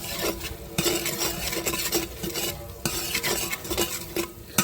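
Spices with red chili powder and turmeric fry in a pot while a spoon stirs them, building the base for potato and pea rice. A steady sizzle runs under constant scraping and clinking from the spoon, close, with no talk.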